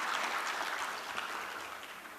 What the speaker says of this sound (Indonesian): Kita berikan aplaus kepada tim penilai dokumen.